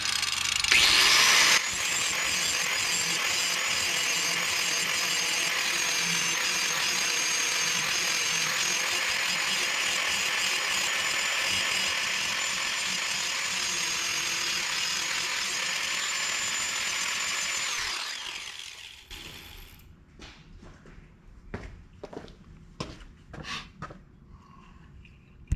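A 1970 six-foot rotary mower blade being ground sharp: a loud, steady abrasive grinding roar holds for about eighteen seconds, then cuts off and leaves a few scattered knocks and clatters.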